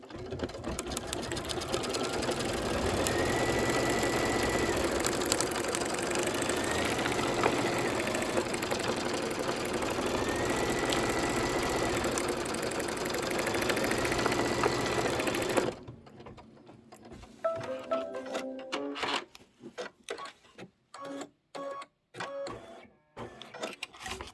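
An embroidery sewing machine stitches a pumpkin appliqué on a quilt, humming in a steady fast whir for about fifteen seconds, then slowing into separate, spaced stitch thumps and pauses.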